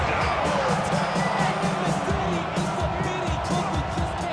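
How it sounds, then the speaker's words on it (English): A stadium crowd at an NFL game between the Commanders and Giants roars and cheers steadily with scattered whoops, a dense, sustained wall of noise with voices mixed in. "this crowd Into it now"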